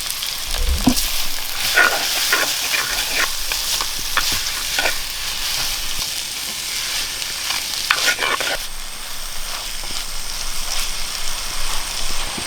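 Mustard seeds, curry leaves, chopped onion and green chili frying in a pan for egg curry, a steady close sizzle with crackling pops and scraping stir strokes throughout, no talking.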